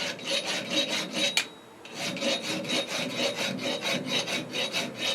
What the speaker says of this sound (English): I'll clean the burr off of this.